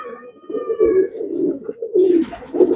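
A black-eyed pigeon coos in low, rolling, throaty phrases, close and fairly loud, repeating over a few seconds with no talking.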